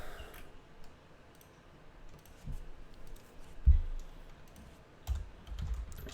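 Typing on a computer keyboard at a desk, a run of soft, close key clicks in uneven bursts with a few louder thumps, alone without talk.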